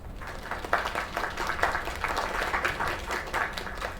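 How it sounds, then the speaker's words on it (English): Crowd applause in the video game Lake, a steady wash of clapping from an audience that carries on evenly for several seconds at moderate volume, with no voices over it. "Another round of applause."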